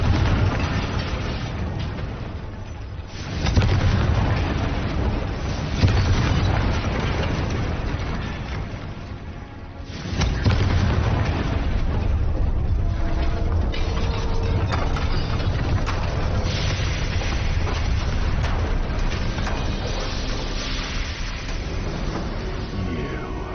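Confringo fire spell explosions in Hogwarts Legacy gameplay, with loud booming blasts and rumbling bursts over dense, continuous game noise and a sharp break partway through.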